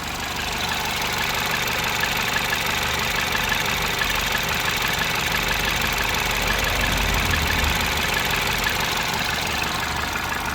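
A Citroen DS3 fitted with a performance induction kit idles after a cold start, giving a steady, continuous engine drone with a low rumble and broadband intake hiss, close and even throughout with no talking.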